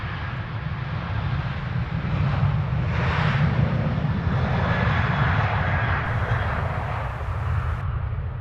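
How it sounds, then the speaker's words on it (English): A Ryanair Boeing 737-800 bound for Rome at Stansted Airport roars with a loud, steady engine rumble that holds unbroken throughout, with no one speaking. "Rome is the destination for this Ryanair 737-800."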